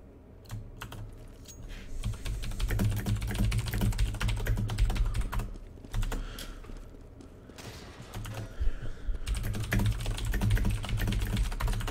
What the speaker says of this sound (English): I might be typing at times just to make sure that, you know, things are happening